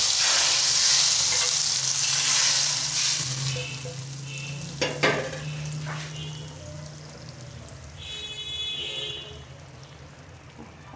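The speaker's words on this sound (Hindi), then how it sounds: "अब इसको लगाते हैं तड़का।" Tadka tempering of browned onion and garlic for sabut masoor dal, a loud continuous sizzle and frying hiss with stirring clatter, steady and close throughout, easing slightly near the end.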